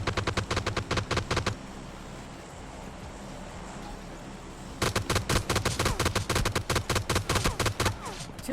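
Rapid automatic gunfire in the mobile shooter PUBG Lite, loud dense bursts of shots that break off into a quieter stretch of ambient rumble, then resume as another sustained burst.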